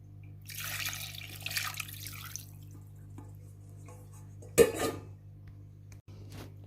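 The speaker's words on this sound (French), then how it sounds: "Je vais mettre mon eau." Water poured into a Compact Cook Pro M6 multicooker pot, a close, hissing splash for about two seconds, then a sharp clatter against the pot, over a steady low hum.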